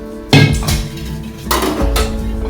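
A metal kadai used for frying veg patties is lifted off the stove with a loud opening clank, followed by a few more scraping, knocking metallic sounds close by.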